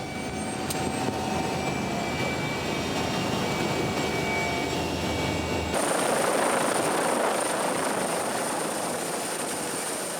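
A rescue helicopter at a ski resort in the Dolomites of the Italian Alps, sent to evacuate an injured skier, roars with a steady, loud, close engine and rotor noise that shifts in tone partway through, with no talking.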